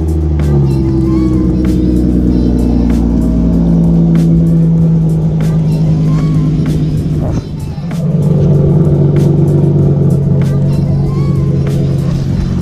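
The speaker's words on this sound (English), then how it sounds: "Here you go, cold start." Hyundai Genesis Coupe with muffler and resonator deleted firing up from a cold start, a deep loud rumble settling into a raw idle with a brief blip, heard close and alone.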